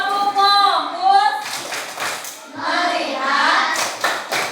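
A fifth-grade class does a rhythmic clapping chant, children's voices reciting in unison with bursts of hand claps between phrases, close and fairly loud in a classroom.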